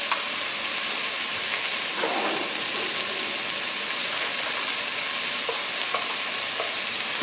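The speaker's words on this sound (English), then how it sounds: "It's always nice to sweat up the herbs with the vegetables." Vegetables and dry thyme sweating in a pot for black beans with smoked ham bone, a dense continuous sizzle with occasional spoon scrapes and taps against the pot, close and steady.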